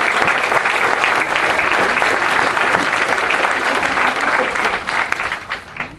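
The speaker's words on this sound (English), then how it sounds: "Please join me in a round of applause for all the cadre for their hard work and dedication in improving our youth," A crowd claps steadily at an outdoor graduation ceremony on a field, a dense, loud round of applause that holds for most of the stretch and begins thinning toward the end.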